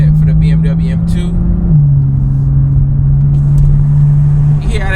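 A BMW M2 engine runs with a strong, steady low drone that drops slightly in pitch partway through, close and loud, with brief voices over it at the start and end.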